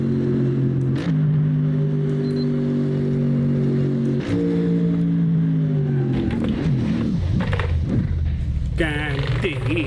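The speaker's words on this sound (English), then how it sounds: "But I am not a fan of the exhaust sound that's coming off it." A naturally aspirated car engine in the racing game Assetto Corsa drones with a steady exhaust note, then rises and falls as it revs between about six and nine seconds, heard up close while someone talks over it.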